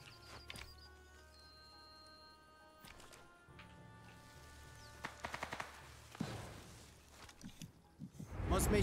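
Bursts of MG42 machine gun fire from a gun mounted on a motorcycle in Sniper Elite 5, a few sharp clustered shots near the middle and end, fairly distant, under game ambience and talk.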